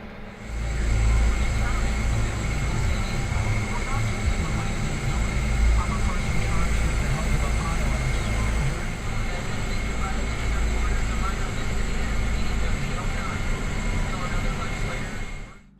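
A drone hovers over a farm field at spring planting time, its steady buzzing drone loud and continuous throughout, with wind-like rumble underneath.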